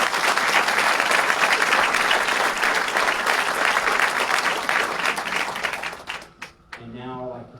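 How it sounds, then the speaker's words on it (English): A dedication ceremony crowd for the Warren Memorial Hospital team breaks into loud, sustained applause, dense clapping filling the room for several seconds before tapering off abruptly as a voice begins speaking. "Let's give them a round of applause."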